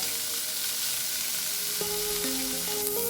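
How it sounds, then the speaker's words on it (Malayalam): Fish masala filling for homemade masala buns sautés in a pan with a steady, dense close sizzle. A few scraping stirs come through near the end. "നന്നായിട്ട് വഴറ്റട്ടോ"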